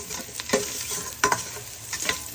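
A utensil stirs mussels with chili leaves in a sizzling pan, scraping strokes landing in an uneven rhythm over a steady frying hiss, close and fairly loud.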